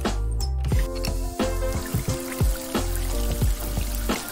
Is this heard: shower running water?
yes